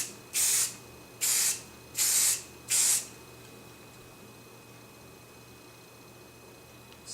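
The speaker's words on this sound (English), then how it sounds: "I'm just going to spray that with some hairspray." Hairspray from an aerosol can sprayed onto a pin curl, four short hissing bursts in quick succession close by, followed by quiet room tone.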